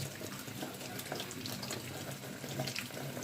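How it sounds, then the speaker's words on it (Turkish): A coconut rinsed under a running kitchen tap, steady splashing water with a soft, continuous rush at low level. "Öncelikle Hindistan cevizimizi şöyle güzelce yıkayalım."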